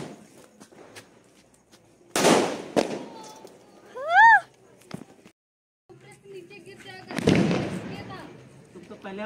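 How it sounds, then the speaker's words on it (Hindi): Firecrackers going off during a Diwali celebration in a village colony, a few sharp loud bangs with pauses between them, along with a bright whistling rise and footsteps nearby. "तो चलते हैं फ्रेंड फटेका वटेका फोड़ने के लिए"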